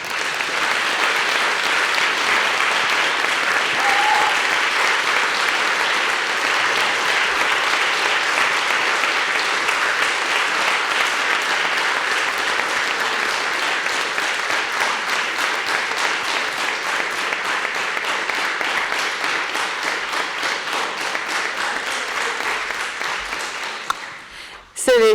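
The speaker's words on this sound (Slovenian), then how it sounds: "Zaslužite si še en aplavz." An audience at a library evening talk applauds in a long, even wash of clapping that holds steady for over twenty seconds before ending abruptly with a brief clatter.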